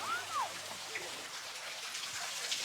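Water drips and flows faintly in a sacred place in Dogon country, Mali, where rain seeps through rock fissures; a soft, steady wash of trickling with occasional bird chirps.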